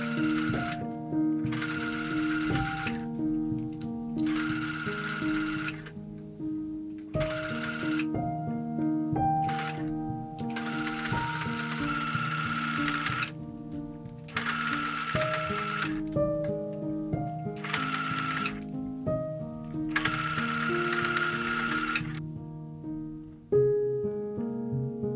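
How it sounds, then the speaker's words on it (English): A sewing machine running a narrow zigzag stitch along a back bodice seam, loud buzzing runs in several bursts separated by short pauses, close, with no speech. "Sew with a narrow zigzag stitch."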